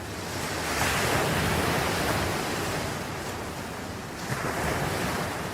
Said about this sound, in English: standing in Whitewater, looking for waves.